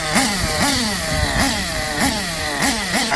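Nitro engine of a Sworkz Apollo 2 RC buggy being warmed up with short throttle blips, a buzzing high-pitched whine that rises and falls in about six quick, regular revs, loud and close with no voices.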